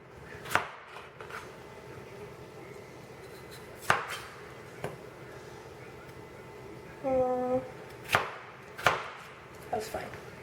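A knife cuts small potatoes in half on a board for Cuban chicken soup: several crisp, close chops land at irregular intervals over a quiet room background.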